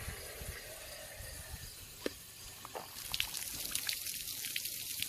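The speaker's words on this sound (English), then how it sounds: "So, rinsing the tank out." Water rinses out a rusty steel motorcycle gas tank, with soft trickling, sloshing and scattered drips close by at low level, the splashing growing brighter and busier toward the end.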